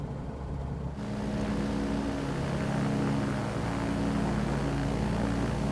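A Kitfox light aircraft flies past with a steady, loud propeller and engine drone that swells after the first second and holds through to the end, no talk over it.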